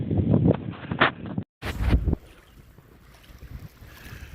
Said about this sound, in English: But yeah, it's windy.